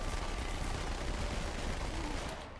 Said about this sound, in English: Right, I have dual wielded SMGs.